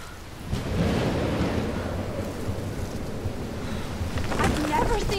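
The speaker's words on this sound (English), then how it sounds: "I've never seen a storm." A thunderstorm in the video game Life is Strange rumbles low and steady with rain-like wash, a swell of rolling thunder building near the end, under faint background sound.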